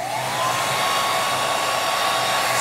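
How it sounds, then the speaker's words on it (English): A hair dryer blows steadily to speed the drying of paint on miniature Warhammer 40k bases, a loud, continuous close-up whirring roar with a constant whine and no talk. "use my hair dryer just to accelerate the drying process"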